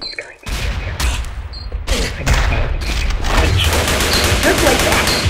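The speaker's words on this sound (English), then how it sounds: "He's going to shoot you." Loud, dense gunfire bursts in a multiplayer shooter video game, continuous rattling shots with booms, heavy and close throughout.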